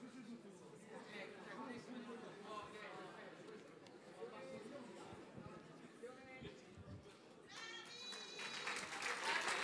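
Applause from the audience at an evening award ceremony, steady clapping mixed with crowd chatter that stays moderate and then builds louder toward the end, with a voice talking over it at times.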